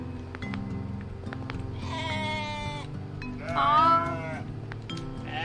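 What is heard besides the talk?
ram bleating in the video game OneShot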